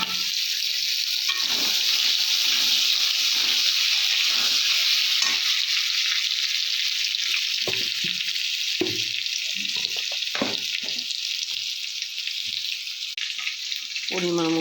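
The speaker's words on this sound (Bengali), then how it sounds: "প্রথমে একটু ভাজা ভাজা করে নেব।" Giant taro and potato pieces fry in a wok of oil seasoned with cumin seeds. A dense, even sizzle runs throughout, broken by a few clinks and scrapes of stirring toward the end.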